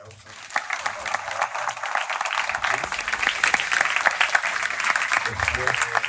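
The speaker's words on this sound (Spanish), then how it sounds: "para quienes les pido un muy fuerte aplauso." Audience applause at a film screening at the BAFICI festival, steady dense clapping from a crowd filling the room for several seconds without a break.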